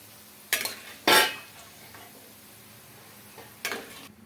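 Fried bitter gourd pieces scooped from a pan onto a plate, three sharp utensil clatters against metal and ceramic, close, with a quiet sizzle in the pauses.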